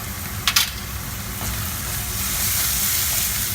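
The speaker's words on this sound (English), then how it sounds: "I just give it a simple stir" Eggplant bharta sizzling steadily in a pan with tomato and Kashmiri red chili powder, stirred once with a couple of brief scraping clicks near the start, then a continuous frying hiss throughout.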